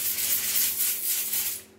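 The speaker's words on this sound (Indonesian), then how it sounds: "Untuk tahap awal catnya bisa kita kelupas menggunakan amplas grade" Dry sandpaper of 80 to 100 grit scrubs paint off a surface in steady, close back-and-forth strokes, a continuous abrasive rasp that fades at the end.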